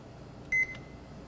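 A single short electronic beep sounds as start is pressed on a kitchen timer, clean and fairly faint over a quiet room hiss.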